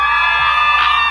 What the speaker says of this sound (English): Can I hear my independent ladies scream?